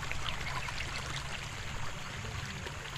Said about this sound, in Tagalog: At saka yung flow ng tubig